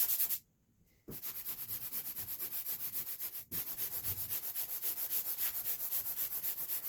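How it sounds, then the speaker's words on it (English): A small finish sander scuffs the factory film off plywood, its close, rhythmic buzzing scrub running steadily with two brief pauses near the start. "We're going to use a little finish sander because it works really good."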